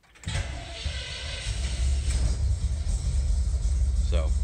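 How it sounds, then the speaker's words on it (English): A 1960 Ford F100 fires up from a cold start and settles into a steady, low, rumbling idle close by, with a faint squeak near the end. "There's your morning cold start."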